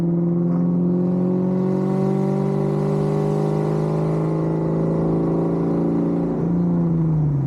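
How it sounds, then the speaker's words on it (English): A loud, deep rumbling exhaust from a 1999 Kenne Bell supercharged Ford Mustang Cobra with an off-road X-pipe drones steadily nearby, its throaty pitch holding then dropping slightly near the end. "I needed to give you guys an example of this exhaust like I've been talking about."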